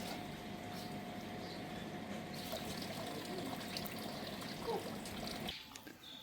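Water from a fountain in the medieval city of Avignon splashes and trickles continuously at moderate loudness, a steady watery wash that drops off abruptly near the end.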